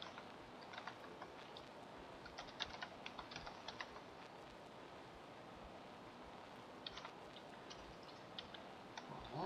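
A login being typed on a computer keyboard: steady, fairly quiet clicks and clatter of keys in short bursts and pauses, with no talking.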